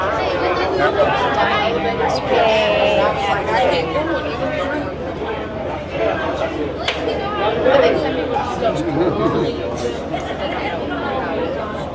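On Harmony of the Seas, a packed main dining room on formal lobster night fills with a constant, loud babble of many overlapping voices, with occasional clinks rising above the hubbub.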